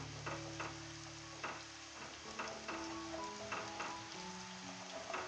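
Onion and garlic chutney sautés in oil over a low gas flame for a Kathiyawadi-style drumstick and potato curry: a close, steady sizzle broken by rhythmic stirring scrapes, with no speech.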